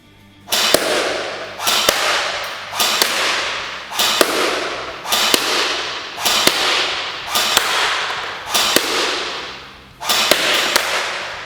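An Echo1USA AMD-65 Hungarian AK-style airsoft gun fires single rounds downrange, sharp snapping cracks about one per second, nine or ten in all, each trailing off into a brief hiss.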